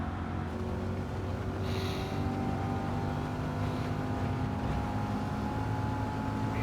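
C8 Corvette engine in the Gran Turismo 7 racing game, a steady, fairly quiet droning hum heard from inside the car without any speech.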